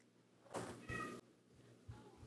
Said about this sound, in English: Not my cat choosing to be horny when I'm filming.